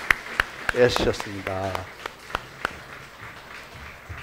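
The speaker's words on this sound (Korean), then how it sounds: "새가족 교육 수료하신 분들 축하하면서 박수 한번 하겠습니다" A church congregation claps for members completing a new-family course, a short burst of applause under a speaking voice followed by scattered, fading claps.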